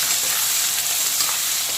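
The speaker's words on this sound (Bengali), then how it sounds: "দিয়ে দিচ্ছি পেঁয়াজ কুচি" Chopped onion dropped into hot oil with nigella seeds and bay leaf sizzles loudly and evenly, a dense close crackle that holds steady throughout with no voices.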